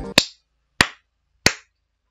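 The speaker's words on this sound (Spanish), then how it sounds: "Y luego de ese emotivo aplauso" Three single sharp hand claps, evenly spaced and close, each a crisp isolated smack with silence between, no voices.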